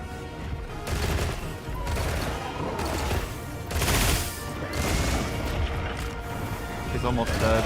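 Fire ammo bowgun shots in Monster Hunter Wilds, heavy repeated blasts every second or so amid battle noise, with someone talking over them.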